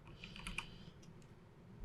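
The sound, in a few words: typing on a computer keyboard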